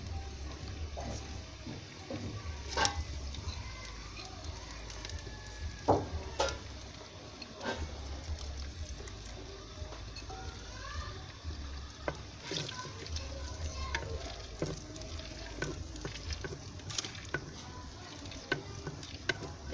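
Chopped onions frying and sizzling in hot oil, a faint continuous crackle broken by sharp clicks and scrapes of stirring, heard alone with no talk.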